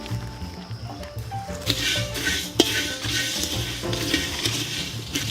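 Whole spices (star anise, cardamom, cloves, peppercorns, mace, coriander, cumin and fennel) are dry roasted in a pan, with a spoon scraping and stirring and a soft crackle, close up and continuous.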